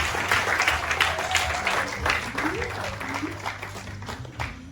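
Audience applause at a certificate-of-merit ceremony for Madame Fidelise Zongo, a sustained, even wash of clapping from a crowd that fades slightly toward the end, with voices faintly under it.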